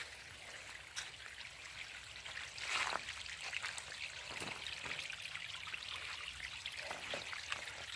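Water trickles and gurgles steadily in a small stream at Conkle's Hollow State Nature Preserve, a soft continuous babble close by with occasional brighter splashes.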